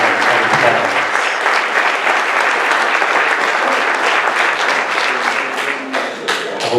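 A school grand march crowd applauds the class of 2018, a dense, loud, sustained round of clapping that fills the hall evenly before thinning slightly near the end.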